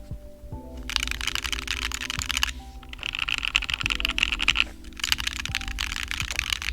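Rapid clacky keystrokes on a custom wireless mechanical keyboard, a Reviung41 build with a nice!nano controller, tapping in bursts with short pauses between them, close and fairly loud.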